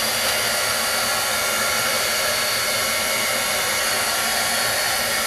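A heat tool blows hot air to heat-set a freshly stamped image on a mini craft project, a loud, constant whooshing roar that runs without interruption.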